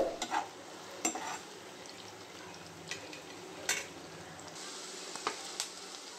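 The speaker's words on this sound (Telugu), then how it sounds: "ఆనియన్స్ వేసుకొని కొంచెం ఆనియన్స్ వేగిపోయేలాగా కలబెట్టుకుందాము" Onions fry and sizzle in a pan while a spoon stirs them for mushroom curry. The sizzle is a quiet steady hiss, broken by a few scattered scraping clicks from the stirring.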